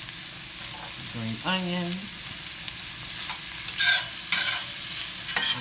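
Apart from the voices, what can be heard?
sautéing mushrooms and green onion in a pan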